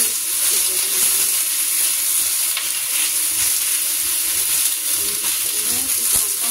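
Chicken pieces stir-frying in a hot pan for oyster sauce chicken, a steady loud sizzle and hiss of oil with faint stirring scrapes throughout.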